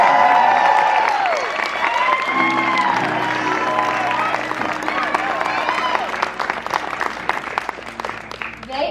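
Audience applause and cheering for a parent choir at a show, heard as crowd clapping and whoops mixed with voices and babble, fairly loud and continuous.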